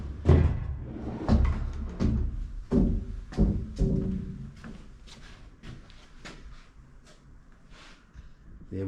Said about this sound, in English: past my sliding door, of course.